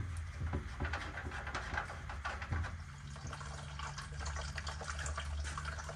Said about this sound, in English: We're going to drain it out until it all drains